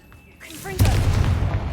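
Confringo blasting spell cast in Hogwarts Legacy: a short rising whoosh builds into a loud booming burst that rumbles on for about a second.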